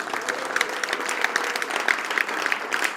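A church congregation applauding, steady loud clapping from many hands filling the room, with a voice faintly audible underneath.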